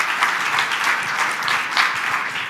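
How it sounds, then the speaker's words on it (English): An audience at a meeting gives a steady round of applause, many hands clapping close and continuous for a couple of seconds with no talk over it. "So big round of applause for yourself."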